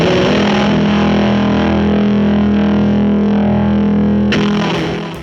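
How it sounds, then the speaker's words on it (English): A sustained, heavily processed guitar chord through a Fractal Audio VP4 swirls with a phasing sweep and washes into a long reverb tail that cuts off near the end. "We could go ahead and turn on our phaser and our reverb"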